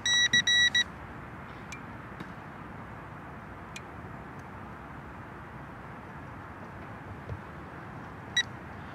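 A Ridgid ST-305 SeekTech 5-watt line transmitter gives a short burst of rapid electronic beeps at the start, then steady background noise with a few faint isolated ticks and one sharp click near the end.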